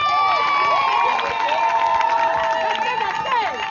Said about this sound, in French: qu'on applaudisse très fort pour elles.